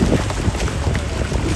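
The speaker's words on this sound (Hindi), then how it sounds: "यहाँ इतनी ठंडी हवा चल रही है ग्लेशियर की वजह से" Cold wind sweeps past a glacier cutting on the Naran–Babusar road, a steady loud rush buffeting the microphone throughout with low rumbling gusts and no talking.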